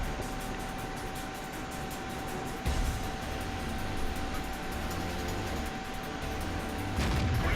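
An M26 Pershing tank cannon fires in World of Tanks, two heavy booms spaced several seconds apart over a steady engine rumble.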